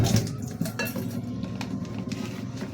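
Dishes being washed in a home kitchen, with pots and utensils clinking and scraping in close, continuous clatter.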